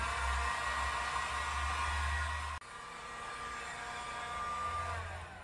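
A hair dryer blows continuously at close range to dry a flocking screen-printing screen, with a steady roaring whoosh that cuts out for a moment and then resumes.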